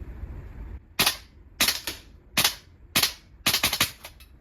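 A VFC V3 gas blowback airsoft rifle fires about six sharp, close cracks at irregular intervals, with a short quick cluster near the end. The gun cycles unevenly as the gas in its magazine runs low.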